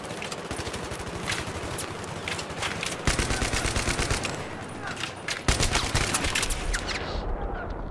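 Battlefield 3 gunfire: sustained rapid automatic bursts rattling almost continuously, loud and close, with a few louder single shots.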